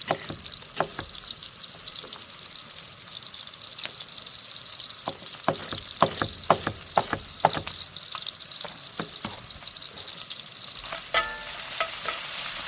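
Bacon sizzles in a hot pan with a steady crackling hiss, punctuated by sharp pops and spatters at irregular intervals, close up and without speech, brightening slightly near the end.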